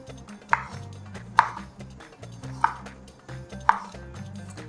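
Knife slicing a lemon into thin pieces on a board, four separate crisp chops at a steady, unhurried pace, close and clear over faint background music, with no talking.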